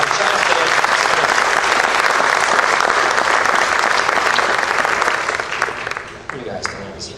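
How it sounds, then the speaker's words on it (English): A school spring band concert audience gives a big round of applause for the jazz band, dense sustained clapping that fills the hall before thinning and tapering off near the end. "And one more big round of applause for our jazz band."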